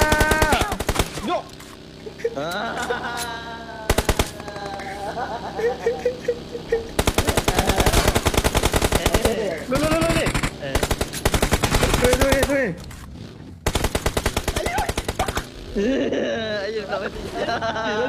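Rapid bursts of automatic gunfire in a shooting video game rattle almost continuously, loud and close, over frequent excited chatter between players.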